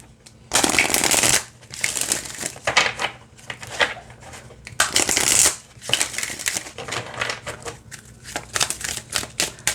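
A deck of oracle cards is shuffled close by, with loud riffling bursts that alternate with softer shuffling and tapping of the cards.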